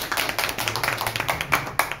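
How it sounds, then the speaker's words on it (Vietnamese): A seminar audience claps in a loose, uneven patter, with distinct sharp claps from nearby hands against a thinner spread of clapping farther back. "Một tràng pháo tay đi quý vị."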